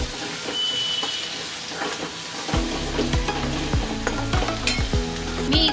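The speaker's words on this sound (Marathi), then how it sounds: "मिठाला पण आता व्यवस्थित मी परतून घेते" Salt and other ingredients for Manchurian gravy sauté in hot oil, giving a constant crackling sizzle, joined midway by a series of rhythmic low thumps and spatula knocks.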